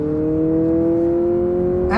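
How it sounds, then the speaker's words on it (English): A Honda hybrid car with dual exhaust hums at a steady engine note, loud and close, then its pitch climbs sharply as it accelerates at the end. "This has a dual exhaust on it, and it really makes a good sound."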